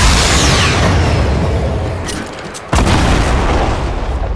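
A heavy, loud boom from a C4 explosion in the video game Fortnite erupts in a dense burst of noise, briefly dropping away before a sharp second blast hits mid-clip, with no voices.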